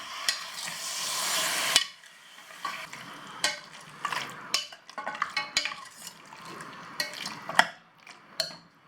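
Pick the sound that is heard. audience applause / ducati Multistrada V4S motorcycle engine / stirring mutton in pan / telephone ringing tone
stirring mutton in pan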